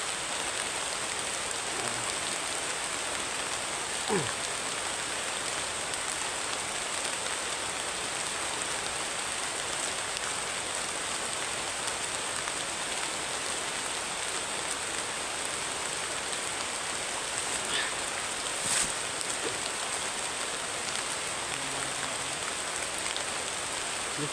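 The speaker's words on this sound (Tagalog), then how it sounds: "Medyo umuulan." Steady rain patters down continuously, a dense even hiss of drops with no voices, holding at the same level throughout.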